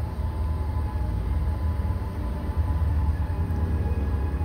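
A Canadian National train approaches an old wooden trestle over the Black Warrior River. The rail rumble is steady and fairly loud, and no voices are heard.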